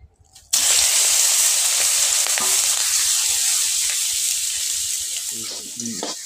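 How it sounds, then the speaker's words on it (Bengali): Prawns dropped one at a time into hot oil in a wok sizzle and hiss loudly and steadily, starting abruptly after a short quiet moment and fading slightly near the end with a few stirring clatters. "এক এক করে চিংড়ি মাছগুলো দিয়ে দেব ভাজার জন্য।"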